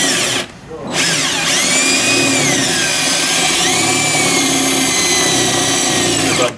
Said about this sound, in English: what you're going to do is drill the head of it out.